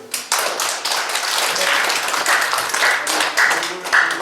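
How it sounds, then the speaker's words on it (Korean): An audience claps together in steady, dense applause that swells and holds for several seconds, with a few brighter sharp claps near the end. "박수 한번 쳐요."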